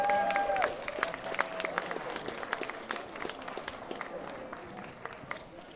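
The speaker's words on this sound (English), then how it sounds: "Let's give them a big round of applause." An audience claps for two guests being welcomed at an interview event, a dense patter of hands mixed with crowd murmur and a brief tonal sound at the start, at moderate volume.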